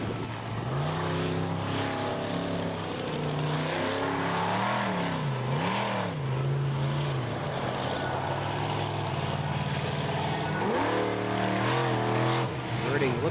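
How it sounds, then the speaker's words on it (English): General Tire monster truck engine revving hard at a monster truck drags event in Indianapolis, a loud continuous roar whose pitch climbs and wavers through repeated throttle swells, with announcer talk over it. "Dale Girding in the General Tire Monster Truck."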